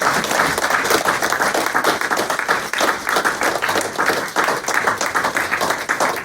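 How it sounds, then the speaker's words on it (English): An audience at a reading event applauds steadily, dense clapping sustained at even loudness throughout, with no voices over it. "Another round of applause, please, for our readers tonight."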